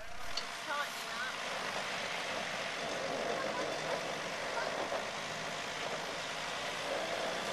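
A Mazda BT50 4WD labours up steep Locker Hill at a Scenic Rim 4WD park in Queensland, its engine a steady, continuous drone under heavy wind or rumble, with voices faintly calling out nearby.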